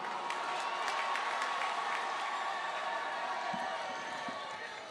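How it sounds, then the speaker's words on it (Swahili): A large crowd applauds at an outdoor political rally in Kenya, a faint, steady mass of clapping heard from a distance that tapers slightly toward the end. "Makofi."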